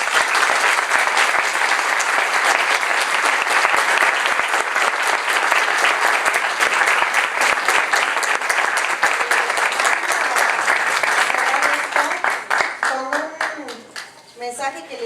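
A packed hall at a 2016 ICOMOS tribute to architect Javier Villalobos applauds loudly and continuously for a long stretch, then the clapping thins and fades as a voice begins speaking near the end.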